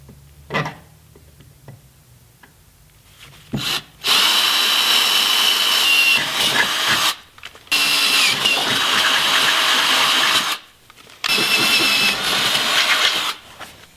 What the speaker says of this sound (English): then I'll start drilling those 5/16 holes